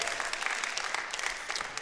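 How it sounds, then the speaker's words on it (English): A church congregation claps its hands together during a Communion Sunday service, a brief, dense burst of steady applause that fills the room with no voices over it. "We clap our hands as people of love"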